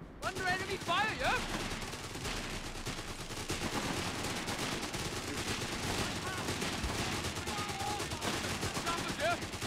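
Gunfire rattles through a World War II battle in the video game Company of Heroes 3, a dense, steady stream of rifle and machine-gun shots layered under shouted soldier voices.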